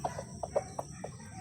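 Chickens and a rooster on a backyard poultry setup, giving a string of short, soft clucks in quick succession, faint against steady background noise.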